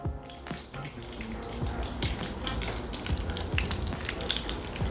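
Tinned mackerel frying in a pan, a loud, steady crackling sizzle with scattered pops running throughout, no voices.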